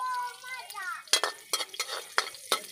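Crushed garlic dropped into hot cooking oil in a pan, frying with bursts of crackling sizzle and a few sharp stirring scrapes, close and fairly loud, while a person talks over it.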